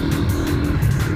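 A Suzuki GSX-S150 motorcycle engine drones steadily and loudly while running through the gears, a continuous close engine roar with no clear breaks or talk in this short stretch.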